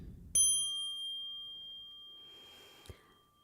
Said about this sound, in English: I'm going to ring the meditation bell